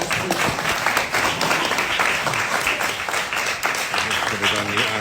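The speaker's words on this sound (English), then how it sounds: "Another round of applause, please." An audience at a community board meeting applauds steadily for about five seconds, a dense patter of clapping from many hands with some voices underneath.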